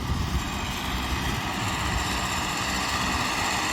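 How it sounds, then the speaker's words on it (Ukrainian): A tractor pulling a homemade stubble cultivator across a field produces a loud, continuous engine drone with a dense broadband rattle and no voices. "Працює з терньовим культиватором у нас."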